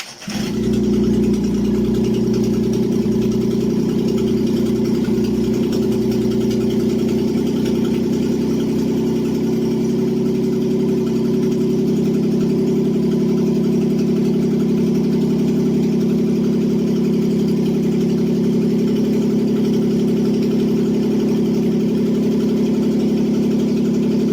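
A carburetor car engine cranked to life without a key, catching abruptly and then settling into a loud, steady idle with a low, even hum that holds for over twenty seconds.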